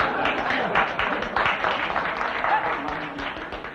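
A television studio audience on a 1950s quiz show claps and laughs in a short, moderately loud burst with uneven rhythm, lasting a few seconds.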